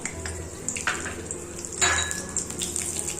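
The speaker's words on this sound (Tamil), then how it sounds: "அடுத்தது பிரிஞ்சி எல்லாம் சேர்த்துக்கிறோம்" Bay leaf and whole spices dropped into hot oil in a pan while making Thanjavur-style kadappa, a soft crackling sizzle with light clinks of a utensil against the pan, close and fairly quiet.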